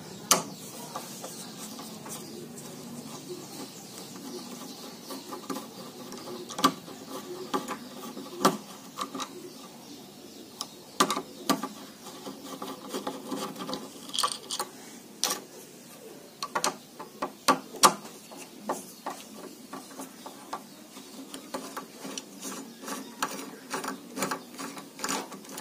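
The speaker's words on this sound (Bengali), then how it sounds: "এখন আপনাকে খুলতে হবে এই নাটগুলো। এখানে দুইটা নাট থাকবে," Nuts on a round door knob lock are turned loose with a ratcheting tool, producing a long series of quiet metallic clicks and ratchet ticks in irregular bursts, close by.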